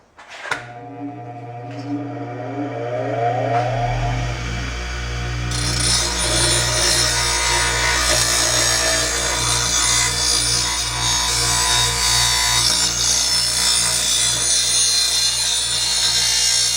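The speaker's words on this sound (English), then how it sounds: "I'm just going to clean that off with a grinding wheel" A grinding wheel spins up and works against a roughed-up metal part of a Noma 8hp 27-inch snowthrower, a loud, sustained whine and rasping grind that starts after a brief click and carries on steadily.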